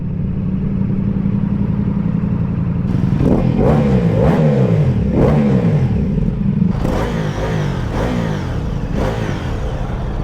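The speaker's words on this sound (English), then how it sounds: "That exhaust system that transforms that bike." A Ducati motorcycle engine revs repeatedly through its exhaust, rising and falling in several loud, close bursts over a steady idle.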